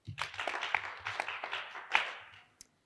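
Audience applause at a summer school session, a burst of many hands clapping that runs steadily for a couple of seconds and then stops, with one last isolated clap.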